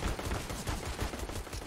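Rapid bursts of gunfire in the video game Counter-Strike: Global Offensive, a dense rattle of shots layered over one another during a match.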